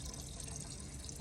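Diesel fuel draining from a car into containers, heard as a faint, steady trickling and pouring of liquid for a moment, with no talking.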